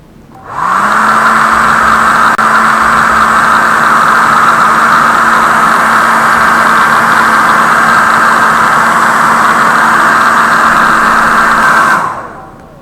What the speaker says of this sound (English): we might need a heat gun again, so I'm just gonna go on this side, to loosen it